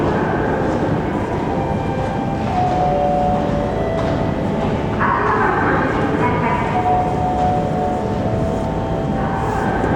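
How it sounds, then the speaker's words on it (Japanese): A JR 733 series local train on the Hakodate Main Line, bound for Otaru, pulls into a platform at Sapporo Station with a steady rolling rumble and faint squeals, while a platform announcement voice plays over it. "まもなく3番線、4番線に列車が到着いたします。"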